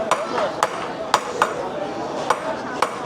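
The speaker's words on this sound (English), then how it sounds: "hammering down metals" Metal being hammered by hand to make jewelry at a street-side shop front in a Beijing hutong, sharp clinking strikes at an irregular pace, about eight across three seconds, with busy street chatter and voices underneath.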